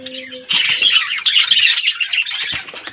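Pet birds perched in a row on a chair at home burst into dense, overlapping chirps and squawks at close range, a busy high twittering that carries on continuously after a brief quiet start.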